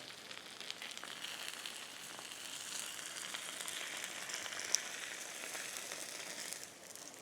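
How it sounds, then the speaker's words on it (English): Bánh xèo batter sizzles in a hot pan, a continuous crackling hiss with tiny pops, steady and fairly close, no voices. "Do you hear how it's sizzling?"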